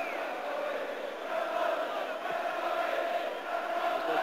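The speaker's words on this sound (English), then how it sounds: "Applause all round the stadium for Rangers, and right well they deserve it" A football stadium crowd at Rangers v Dundee United in 1986 applauds at half-time, a broad, steady roar of clapping and cheering heard from a distance.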